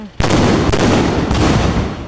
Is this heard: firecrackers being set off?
yes